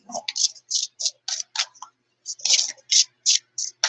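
Tarot cards are shuffled in a steady run of crisp, close riffling clicks and flicks. Bursts arrive at an irregular pace with a short pause midway.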